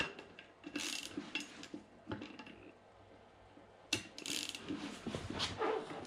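A wrench clicks and ratchets while bolts on a monster bike's sprocket are tightened, with quiet metallic taps and clanks in irregular bursts and a louder cluster of clicks near the end.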